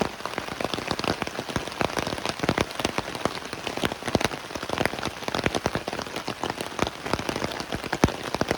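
Rain falls steadily in the woods at a wild camping spot, a dense, close patter of drops striking surfaces that continues without a break, with no voices.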